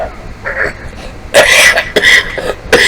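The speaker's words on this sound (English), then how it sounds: "ain't that funny that I start coughing right there" A man coughs and clears his throat in a few sharp bursts, close and loud, with short pauses between them.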